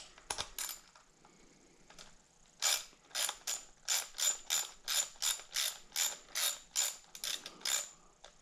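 A ratchet tightening a bolt on a Husqvarna chainsaw: a few quick clicks, then a steady run of about a dozen evenly spaced metallic ratcheting strokes, close and crisp, with no talk.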